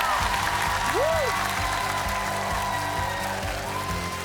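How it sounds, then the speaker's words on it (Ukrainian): Steady applause from a studio audience at a televised singing competition's blind audition fills the whole stretch, with a band playing underneath and no talking. "Давайте оплесків дамо."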